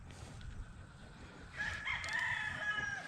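A rooster crows outdoors by a reservoir at dawn, a single sustained call entering midway over quiet low background noise, fairly distinct and unaccompanied by speech.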